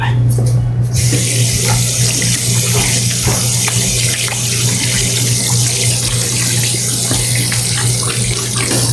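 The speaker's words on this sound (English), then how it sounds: "Gonna rinse my hands a little bit" Tap water runs steadily into a sink while hands are rinsed during bread baking in a kitchen, a continuous close hiss with a low hum underneath and faint splashes throughout.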